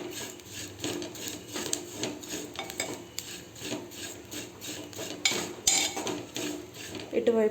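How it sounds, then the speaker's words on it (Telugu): Semiya vermicelli dry-roasting in a pan while a spoon keeps it moving: steady, close scraping and stirring with metallic rasps, and a few sharper clinks near the end. "మాడిపోకుండా మంచిగా వేయించుకోవాలి."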